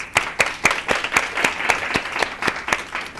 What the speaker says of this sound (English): I just want to give them a round of applause.